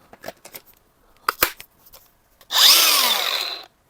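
DeWalt cordless power tool fresh from its box getting a test run: a few clicks and handling knocks, then a loud close motor whine that spins up, holds for about a second and cuts off.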